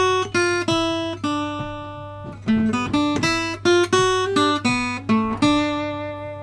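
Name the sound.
Guitar lick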